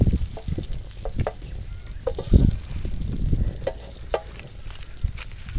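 Butter sizzles in a small frying pan as garlic chicken cooks over a village fire, a steady close crackle and hiss with scattered louder pops and stirring bursts throughout.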